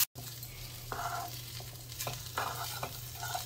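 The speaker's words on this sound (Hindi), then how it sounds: "अब इसमें डाल देते हैं अनियंस, इसको भी लाइट ब्राउन कलर होने तक कुक करेंगे।" Onions fry and sizzle steadily in hot oil with cumin, with a few louder stirring scrapes breaking over the constant hiss.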